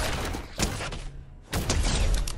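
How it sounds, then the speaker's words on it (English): Rifle fire from a sideways rifle in a shooter video game, two loud bursts of shots separated by a short pause, close and harsh with no talking. "That sideways rifle is trash, man! It's so bad!"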